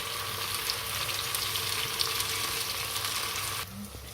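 Potatoes fry in a pan for a crustless pizza, giving a steady, close sizzle and crackle that drops suddenly near the end, as if a lid is closed.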